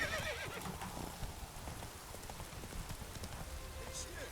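Roach, the horse in The Witcher 3 video game, clip-clops steadily along with hooves close by and lets out a neigh, with a light patter of rain underneath.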